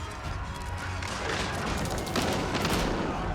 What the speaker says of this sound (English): Longbow firing away.